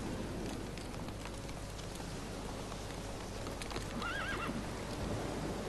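A horse whinnies with a wavering neigh amid clip-clopping hooves in The Witcher 3, set against steady rain and a dense game soundscape, the neigh rising briefly near the end.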